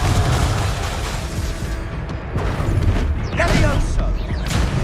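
Fire spell cast in a Hogwarts Legacy game session, a dense roaring, crackling burst of mechanical booms and whooshes that swells and flares loudly toward the end, with a voice speaking over it.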